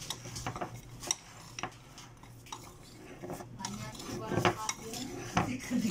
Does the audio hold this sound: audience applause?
no